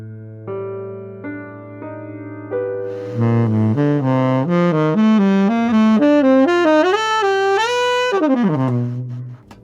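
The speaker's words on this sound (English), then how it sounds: "Here we're going to use the Locrian scale," A melodic instrument plays a descending-then-ascending Locrian scale run of single notes, steady and clear, ringing out alone at moderate volume.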